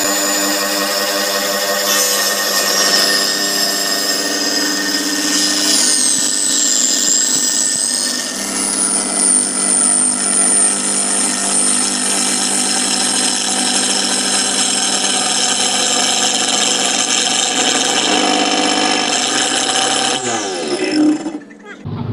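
An angle grinder mounted on a table saw, fitted with a 7-inch saw blade, runs steadily at about half speed with a loud, sustained whining hum before spinning down at the end.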